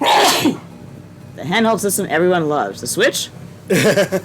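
A single sharp sneeze bursts out at the start, loud and close, followed by people talking.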